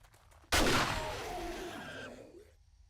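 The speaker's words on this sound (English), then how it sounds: "You just run over and shoot them before they get up. Shoot them again." A single loud shotgun blast fires in the video game 7 Days to Die, a sharp close report that rings out and decays over about two seconds, with no talking.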